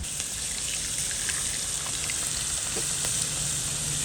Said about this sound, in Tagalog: So since na mainit na mantika, ilagay na natin si tilapia.